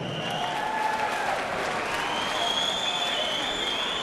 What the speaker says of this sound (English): please, ladies and gentlemen, a huge round of applause for our gallant runner-up, Danny Cornwall.